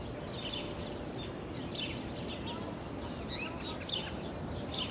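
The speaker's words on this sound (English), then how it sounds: "Do you hear all those birds?" Birds chirp and sing in a backyard garden, scattered high calls repeating throughout over a steady broadband rumble of distant traffic, with no talking.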